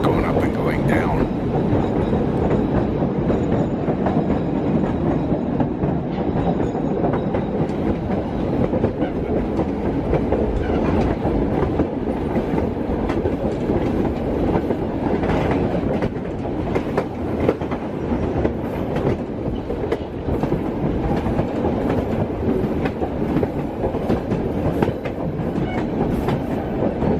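White Pass and Yukon Railroad train running on its tracks near Skagway, Alaska, a steady rumbling roll with faint clickety-clack of old railcars, heard continuously from on board for the whole stretch.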